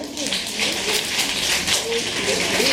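At a primary school reading day event, fingers tap out a soft, rapid patter imitating rainfall, a continuous close pitter-patter of small hits.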